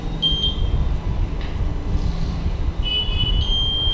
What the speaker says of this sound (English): it gives a buzzer for some seconds